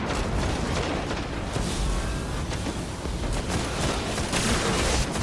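Rapid weapon fire from the video game Destiny, a dense, continuous stream of loud shots with no pauses, emptying the magazine in a steady, relentless burst.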